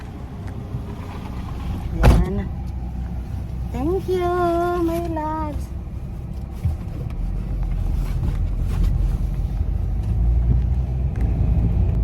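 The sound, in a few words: riding in a vehicle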